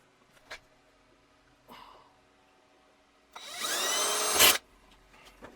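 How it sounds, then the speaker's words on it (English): A single short, high-pitched drill burst runs for about a second, drilling out a plastic parts bin, after a few faint taps and thuds. "I need to drill this one out."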